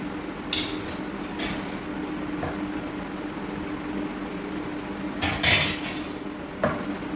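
Dishes clatter and clink intermittently, a few sharp knocks of pots and plates over a steady low hum of room noise.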